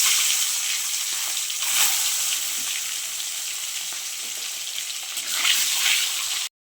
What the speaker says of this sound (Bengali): তেলটা গরম হয়ে গেছে, এবার ডিমগুলো ভেজে নিচ্ছি